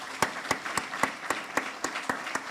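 A church congregation claps in unison for visiting preachers, nine sharp, evenly spaced claps ringing out in a steady rhythm with no voices over them.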